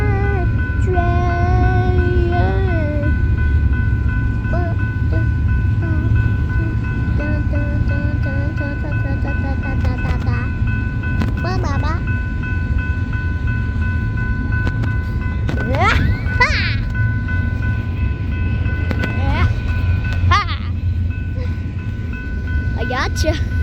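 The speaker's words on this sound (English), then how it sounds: "Let's go listen to the night train." A night train passes on the railway, with a continuous loud rumble of wagons and sustained horn-like tones early on, plus squealing wheel and rail screeches and clatter throughout.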